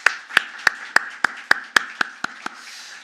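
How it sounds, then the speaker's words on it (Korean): About ten sharp, evenly spaced claps ring out in a church service, a single pair of hands or a small group clapping for the choir in a steady rhythm that slows and thins at the end. "우리 찬양대에게는 격려의 마음 담아서 크게 박수 한번 할까요?"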